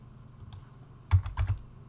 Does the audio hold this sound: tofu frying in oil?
no